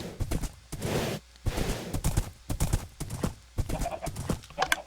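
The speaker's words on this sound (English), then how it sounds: "I got a place there for horses" Horses in the Minecraft video game, with repeated clip-clop hoof sounds and whinnying in quick bursts, fairly loud and close, without any talking.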